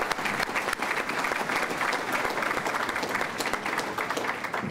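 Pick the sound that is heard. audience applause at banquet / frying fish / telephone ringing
audience applause at banquet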